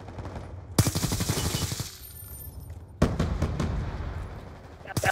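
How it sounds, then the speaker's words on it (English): Sentry gun fire in Black Ops 2 comes in two loud, close bursts of rapid automatic shots with a short quieter gap between them, over background game noise. "They got a sentry gun up in that one booth"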